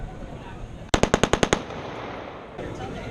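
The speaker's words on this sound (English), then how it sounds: "The M1 Grand fires 8 shots." An M1 Garand rifle fired at an outdoor historical firing display, seven sharp shots in quick, even succession within about half a second, loud and close, with ambient crowd noise before and after.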